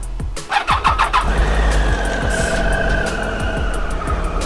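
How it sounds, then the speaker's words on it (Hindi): A Triumph Tiger motorcycle cranks over on a cold start with a few quick starter turns, then catches and settles into a loud, steady close-up idle. "बाइक को करते हैं कोल्ड स्टार्ट"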